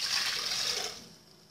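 Water poured into an electric blender jug while making a layered milk pudding, a brief bright splashing pour that tapers off toward the end.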